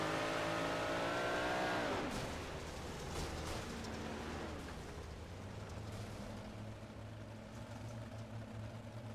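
Loud onboard engine of a 358 modified stock car racing at Volusia, revving high then dropping off, with a steady droning roar that stays heavy and close throughout.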